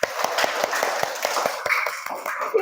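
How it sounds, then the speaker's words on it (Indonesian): A classroom group clapping together, a regular rhythm of sharp claps roughly every fifth of a second that grows looser and more scattered toward the end, fairly close with a faint voice underneath. "tepuk tangan untuk kita semua"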